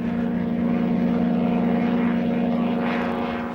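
A light aircraft flying low over desert dunes late in the day, a steady droning propeller engine hum with a strong low tone, loud and sustained, with no speech.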